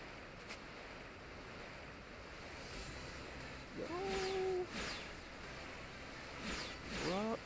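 Ocean waves roll and surge while Mantine surfing in the video game Pokemon Ultra Moon, a steady surf wash with game tones chiming over it.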